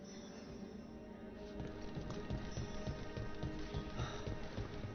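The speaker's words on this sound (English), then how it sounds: "Raining again." Rain falls steadily in the video game Dragon Age: The Veilguard, a dense patter of drops on surfaces with occasional clop-like hits and a low rumble beneath, continuous and moderately quiet.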